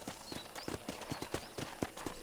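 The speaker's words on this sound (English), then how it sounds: "I picked out a fine horse for you." A horse's hooves clip-clop at a steady walking rhythm in the Red Dead Redemption video game, with about a dozen distinct, close hoofbeats in quick succession.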